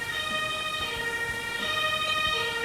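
Ambulance siren in the emergency services video game Emergency, a loud, continuous wailing tone sounding throughout, steady and near, over faint vehicle noise.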